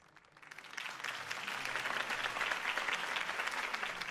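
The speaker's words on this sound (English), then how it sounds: "could have heard that applause" Crowd applause for a campaign speech in Batman: The Telltale Series swells in from quiet and holds as a dense, steady patter of many hands clapping, moderately distant.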